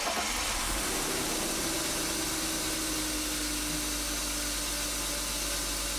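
A BMW 5 Series E39 engine runs at a steady idle, a constant low hum and broadband whir close by with no talking.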